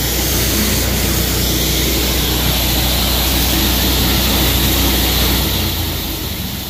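A 13-horsepower high-pressure washer engine runs loud and close in a steady, unbroken roar that eases slightly at the end.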